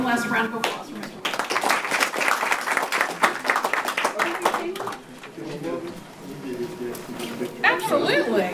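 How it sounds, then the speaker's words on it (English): Applause and clapping at a board meeting honoring Mr. Wilkes, steady broadband clapping mixed with crowd chatter and nearby voices throughout, fairly loud and close. "And one last round of applause for Mr."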